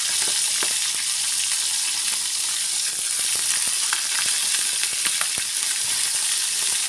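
Bird's eye chilies frying in hot oil for sambal, giving a steady close sizzle with scattered crackles and pops throughout, without any talking.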